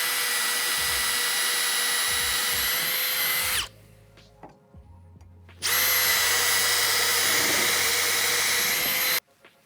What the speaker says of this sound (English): I'm just going to hold each one of these and actually just drill.